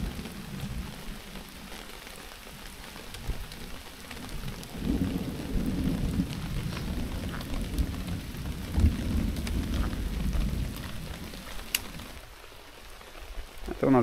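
Rain falls steadily at a campsite on the Klyazma river, a broad continuous hiss with low rumbling thunder swelling through the middle.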